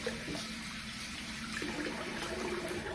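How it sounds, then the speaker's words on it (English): Tap water runs steadily into a bathroom sink while the face is wetted during a wet shave, a constant close rush of water with no one talking. "I'm gonna wet the face again."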